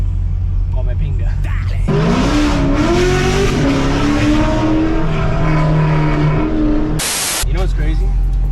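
A Camaro SS with a 6.2-litre LT1 V8 revs up and holds a loud, throaty roar that rises and falls. People talk over it, and a sharp high burst of sound comes near the end.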